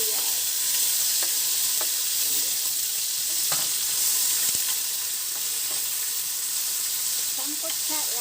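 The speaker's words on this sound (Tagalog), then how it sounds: "Sangkutsa lang natin guys." Garlic and onion sautéing in hot oil in a pan for a bitter gourd dish give a steady, close sizzle, with scattered clicks and scrapes from stirring throughout.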